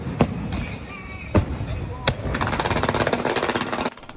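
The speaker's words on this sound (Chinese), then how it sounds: "烟火伫天顶散开" Temple fair fireworks, launched from a truck and a crane, burst in sharp, echoing bangs a few at a time, then break into dense crackling, all under a narrator's voice.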